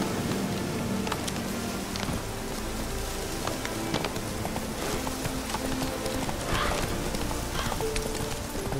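Roach, the horse in The Witcher 3: Hearts of Stone, clip-clopping steadily at close range in the video game, with a continuous rain-like ambient wash and game music under the hoofbeats.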